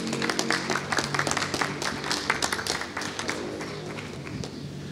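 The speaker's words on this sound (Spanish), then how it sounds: "Por favor, un fuerte aplauso." Audience applause at a workshop event for the Félix Candela award, fairly quiet but continuous crackling claps with scattered sharper individual hits, fading slightly toward the end.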